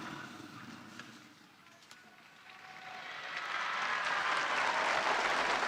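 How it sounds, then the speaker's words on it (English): Crowd cheering and applauding at the Angelus with Pope Francis, a broad wash of outdoor applause that starts moderate, dips briefly, then swells louder and steady through the end, with no talk over it. "Cheers from the crowd there as the Pope delivers his address"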